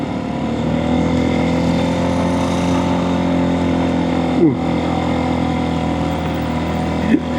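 A motorcycle engine strains up a steep, badly damaged road, producing a loud, steady droning hum with layered harmonics throughout. Two brief louder bumps stand out in the middle and near the end.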